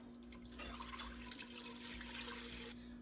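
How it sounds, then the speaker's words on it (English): Water runs into a cooking pot of broth on a stove set to high, a steady splashing pour lasting a couple of seconds before cutting off. "so I'm gonna add water"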